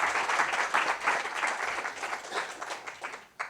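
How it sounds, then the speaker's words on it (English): A round of applause for the panelists at a Black History Month "Saluting Our Sisters" event, a steady, moderately loud wash of many hands clapping that thins out toward the end. "can we give another round of applause to all of our panelists?"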